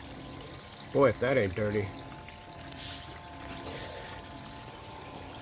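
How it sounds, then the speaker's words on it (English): Water runs into a rocker sluice carrying pure sand for flour gold recovery, a faint, steady trickle heard beneath a man's short spoken remark and continuing on its own afterward. "Then we got the water coming up here."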